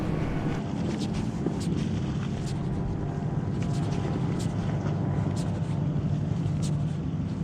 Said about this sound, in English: You hear the boats running by me right now.